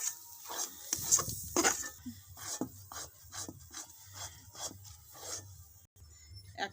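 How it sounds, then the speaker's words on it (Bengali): Chana dal halwa being stirred in a kadai, a spoon scraping and rubbing through the thick mixture in steady repeated strokes, close and fairly quiet with no talking. "নাড়তে নাড়তে থামা যাবে না বন্ধুরা, থামলে কড়ার নিচে লেগে যাবে"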